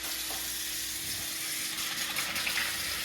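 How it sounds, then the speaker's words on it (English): Tap water runs steadily into a kitchen sink during hand washing while baking cinnamon rolls, a continuous close hiss with faint splashing. "Let me just wash off my hands."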